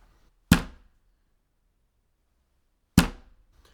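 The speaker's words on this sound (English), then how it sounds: "You make the bass sound by hitting the palm of your hand on the desk." Two separate dull thumps of a palm slapping a desk, used as a bass drum sound for pencil drumming, each sharp hit decaying quickly, spaced about two and a half seconds apart with silence between.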